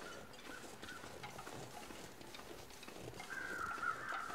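Crows cawing in The Long Dark video game: faint, far-off harsh caws that grow into a short run of repeated calls near the end, over a soft ambient background.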